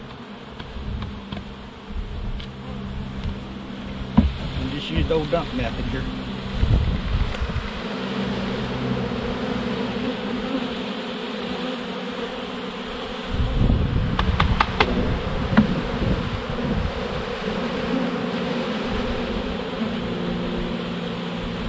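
Honeybees from a purchased package hum as they are shaken into a hive, a dense low buzz that swells in two bursts, near and steady, with brief speech and wind noise over the top.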